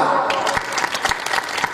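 An audience at a kirtan applauds in a short burst of dense clapping that breaks up into scattered individual claps, with a trace of voices.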